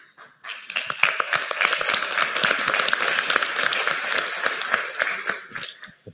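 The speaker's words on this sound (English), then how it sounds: "Make sure we tell Carlos in Ecuador that he got a round of applause" A conference audience at an opening keynote breaks into sustained applause, dense clapping from many hands holding steady for several seconds before fading.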